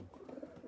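Pigeons in a high-flying pigeon loft coo softly in a brief, faint burst of low, throaty murmurs with no one talking.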